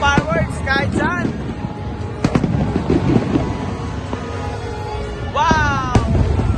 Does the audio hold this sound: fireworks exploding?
yes